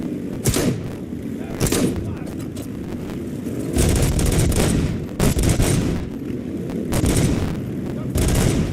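Gunfire in RoboCop: Rogue City crackles in repeated sharp bursts and heavy volleys, loud and close, while a voice talks underneath the shooting.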